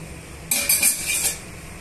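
A spoon stirs rasam ingredients for pepper charu in a metal pot, a few quick clinks and scrapes bursting in close and loud over about a second before settling into quieter rattling.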